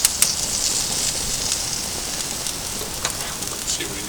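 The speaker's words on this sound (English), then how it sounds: "This button here is the igniter for the back burner here, the rotisserie burner I call it." The rotisserie burner of a gas grill catches and burns with a steady rushing hiss, with a few sharp clicks and crackles on top, close by.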